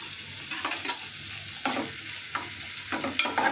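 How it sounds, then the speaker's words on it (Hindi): Edible gum (gond) roasting in a pan with a spoon stirring, a soft sizzle underneath broken by scraping strokes at irregular intervals, close and moderately quiet, with no talking. "हमें और बाकी सारा गोंद इसी तरह भून लेना है"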